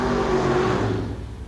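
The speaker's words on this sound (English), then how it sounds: "complete their burnouts" Drag racing cars do burnouts at a Six Shooter Showdown event, heard as a loud, steady roar of engines and spinning tyres that begins to fade toward the end of the brief moment.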